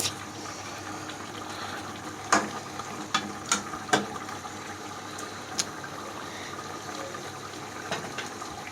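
Meat being slowly fried and stirred in a pan gives a steady, hissing sizzle broken by a few sharp scraping clicks of the spoon, close by, with no talking.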